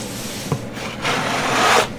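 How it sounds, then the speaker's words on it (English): A scraper drags across wet acrylic paint on a pour painting, giving a soft rasping rub, a short tap, then a longer, smoother scrape that swells and fades. "So let's scrape. Get my scraper out here."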